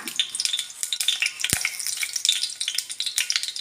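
Chilies drop into hot oil while onion pickle is being fried, setting off a steady, crackling sizzle with quick spitting pops. A brief stir or clunk from the pan sounds partway through.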